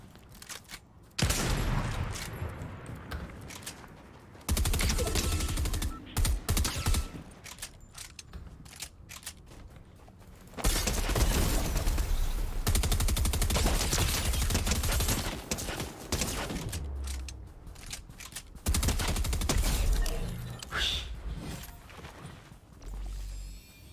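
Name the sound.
SMG gunfire in the video game Fortnite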